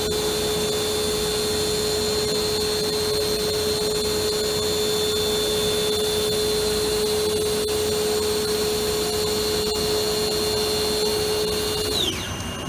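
Star SST-16 CNC Swiss lathe machining 150-thousandths stainless steel tubing at high spindle speed: a loud, steady tonal whine over constant machine noise that winds down abruptly at the very end.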